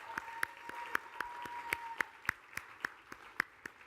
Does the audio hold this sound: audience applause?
yes